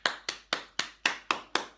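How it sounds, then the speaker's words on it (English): Seven sharp hand claps land in an even, steady rhythm, fairly quiet and close, each with a short ringing tail. "Now, I want you all to give Mr. Matt Finch a round of applause."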